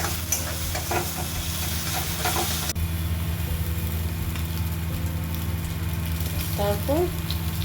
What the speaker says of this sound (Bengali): রসুন আর আদার যে পেস্টটা বানিয়েছিলাম সেটাও কড়াই দিয়ে পেঁয়াজের সঙ্গে নাড়াচাড়া করে খুব ভালো করে